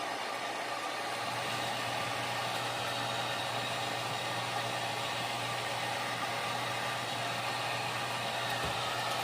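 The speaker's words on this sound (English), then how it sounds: "because a heat gun, it's much hotter than a blow dryer" Heat gun blowing hot air to shrink plastic wrap around bath bombs: a loud, steady broadband roar with a low hum, continuous and close.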